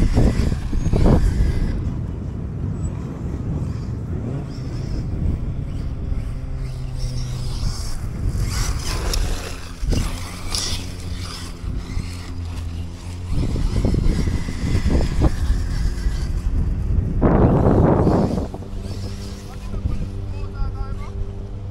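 Hobbytech NXT or Kyosho Inferno Neo RC buggy revving and accelerating on dusty dirt, its motor whining in rising and falling bursts, loudest near the end, with voices talking throughout.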